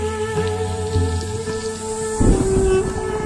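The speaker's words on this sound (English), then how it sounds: "The annual rains bring a deluge that in a matter of weeks will turn the sepia landscape emerald green." Heavy monsoon rain pours across a parched Indian lion habitat, a dense steady hiss with low rumbling underneath that swells into a louder, thicker downpour partway through.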